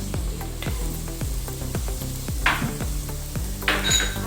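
Ground ginger and garlic are stirred in a sizzling pan, with a regular run of knocks from a spoon against the pan over a continuous fry hiss and a couple of louder sputters.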